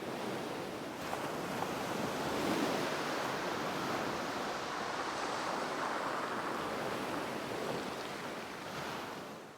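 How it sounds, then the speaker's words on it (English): Waves break on a shore in the Nightingale video game, a continuous close wash of surf that swells and eases with a windy hiss. "the environment team added a method of producing waves breaking on the shore"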